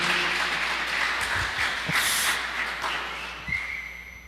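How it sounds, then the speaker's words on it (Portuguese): Brief round of applause from a church congregation at a Sunday gathering, clapping mixed with a couple of sharp whistles cutting through near the start and end, fading slightly over a few seconds. "Salve de palmas para elas lá"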